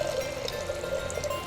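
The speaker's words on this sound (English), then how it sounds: "I'm going to fill it up with also 800 cc's of ozonated water" Ozonated water from a machine streams steadily into a beaker, a continuous close splashing pour with a slight rising fill tone.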